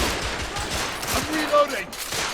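Rapid gunfire rattles through a firefight in the video game The Order 1886, with dense bursts of shots under a constant noisy background, a louder crack near the middle, and voices faintly mixed in.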